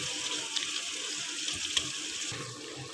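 Water runs from a tap into a kitchen sink for washing up after kneading dough, a steady close hiss with a few faint clinks over it, no voices.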